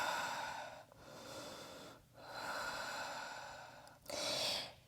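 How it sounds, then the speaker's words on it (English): Heavy breathing during a rest break in an intense HIIT workout, with three or four long, steady inhale-exhale cycles close up, each breath broad and airy with brief pauses between. "Breathing."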